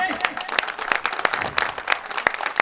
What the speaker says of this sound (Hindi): आप सभी लोग जोरदार तालियों से स्वागत करें।